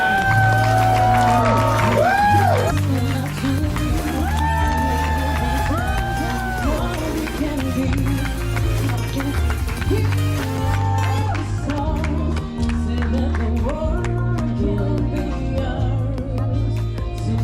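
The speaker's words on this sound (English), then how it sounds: "With your greatest cheer and your greatest applause, to welcome our newlywed, Mr. and Mrs. Tan" Wedding guests in Bali cheering and applauding to welcome the newlyweds, a sustained crowd roar of claps and shouts mixed with loud music and voices.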